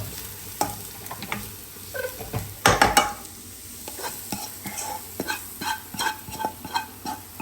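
Ground spice mixture tipped into cooked tapioca (kappa) in a pan and stirred, bringing repeated scraping strokes with a brief louder clatter, then a steady rhythm of spoon scrapes over a soft sizzle, close by with no talking.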